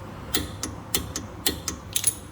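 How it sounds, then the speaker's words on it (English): A torque wrench ratchets on the front brake caliper bracket bolts of a 2016 Mercedes-Benz GLC300, set to 59 foot-pounds, giving a close series of sharp, evenly spaced clicks and then a quick double click, with no talk. "We're gonna torque it to spec, make sure we're at spec."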